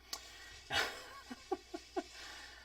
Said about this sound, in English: I just chased my little dog around the shop.